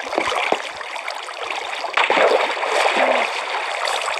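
Flowing water in a video game trickles and babbles like a small stream, a continuous soft rush with occasional splashy bursts, heard without speech.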